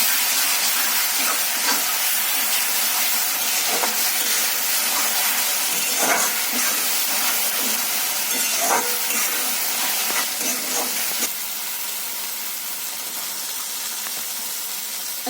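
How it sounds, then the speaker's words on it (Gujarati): Tomato and onion paste sautéing in a pan gives a loud, dense hiss with scattered spatters and utensil scrapes, easing slightly toward the end, no voices. "હવે આપણે તમે ટામેટા અને કાંદાની પેસ્ટ નાખીશું અને સારી રીતે સોતે કરી લઈશું"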